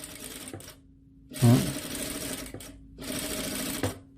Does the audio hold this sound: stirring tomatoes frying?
no